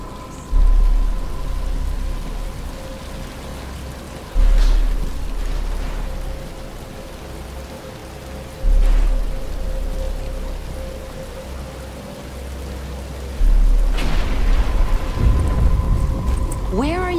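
Steady rain hisses throughout with several low rumbles of thunder rolling in at intervals, fairly close and loud, while voices speak briefly near the end.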